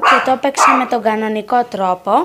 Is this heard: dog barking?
yes